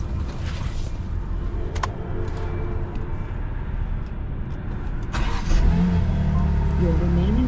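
A BMW M2 cold start at night, with a steady engine drone swelling into a louder, rougher rev partway through, close and continuous, with some talk over it.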